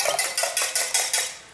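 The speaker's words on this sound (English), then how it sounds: "I'm just gonna lightly whisk that with a fork" A fork clinks rhythmically against a bowl while lightly whisking two whole eggs and one egg yolk, roughly eight quick, bright taps in steady succession, close and clear with no talking.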